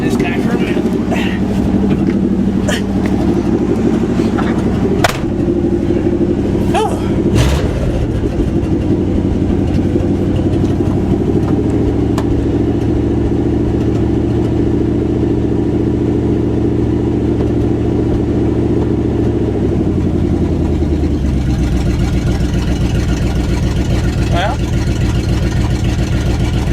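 A 1973 Dodge W200 and a 2001 Ford F250 truck idling after a cold start, with a steady, rumbling low engine drone that shifts in pitch as revs settle, plus occasional clicks and knocks, while people talk nearby.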